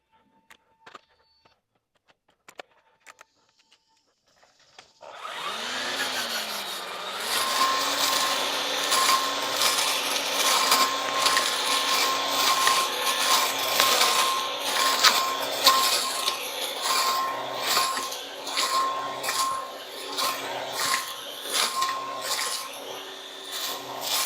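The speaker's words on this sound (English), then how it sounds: "let's throw on that brush cutter." A RYOBI 40V HP 16-inch string trimmer fitted with a brush cutter attachment starts after a few quiet clicks, then runs as a loud, steady whining motor with rough chopping and rasping through grass and weeds.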